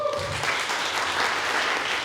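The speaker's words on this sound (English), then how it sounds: "give him a round of applause as well" A room full of people claps steadily, dense applause continuing throughout at close range.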